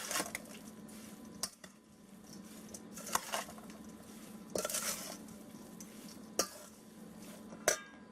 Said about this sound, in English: I'm gonna add my pimento peppers, my celery, and just give that a good mix